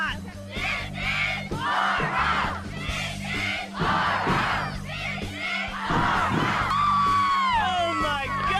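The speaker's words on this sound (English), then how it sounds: "Give me your best cheer" A large, rowdy crowd at a live event cheers loudly in waves of yelling, whooping and shouting, with young voices among them, sustained and close throughout.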